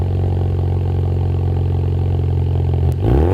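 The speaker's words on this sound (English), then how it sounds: "The MRT turbo back exhaust system gave our EcoBoost Mustang a very, very aggressive sound." An EcoBoost Mustang with an MRT turbo-back exhaust revs loud and close, a steady raspy drone that drops off sharply near the end before picking back up.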